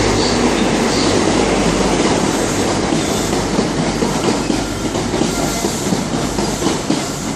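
A Great Western Railway train led by power car 43004 passing through Exeter St David's station, with a loud, continuous rumble and rhythmic clickety-clack of wheels on rail joints, close and sustained for the whole stretch.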